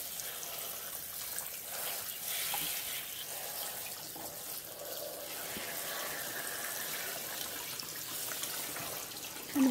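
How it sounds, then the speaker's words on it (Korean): Perilla leaves rinsed under a running tap, a steady broadband rush of water with soft splashing that runs continuously at moderate level without speech. "뒷부분을 호수에, 물에, 물줄기에 대고 이렇게 씻어주세요."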